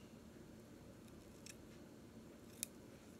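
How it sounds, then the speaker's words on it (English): Scissors trim tulle on a ballerina gift tag, two or three quiet, crisp snips against soft room hiss, with no one speaking. "I'm going to trim a little bit this tulle because I want my little legs to show"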